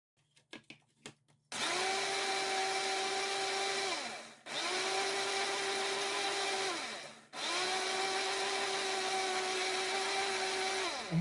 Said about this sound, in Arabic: وغنخلطوا كلشي في الخلاط